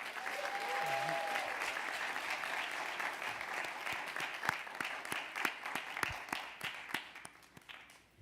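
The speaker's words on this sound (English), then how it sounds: "Let's give her another hand of applause" Audience at the opening of a Langston Hughes exhibition gives sustained, full applause that thins out toward the end into scattered individual claps, with a brief whistle early on.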